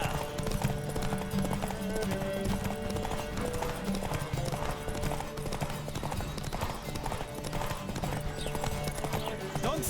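Horse galloping during a race in The Witcher 3, a continuous rapid clip-clop of hooves over game music and ambience, with a brief whinny and speech-like voices mixed in.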